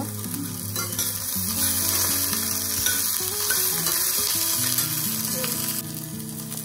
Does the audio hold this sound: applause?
no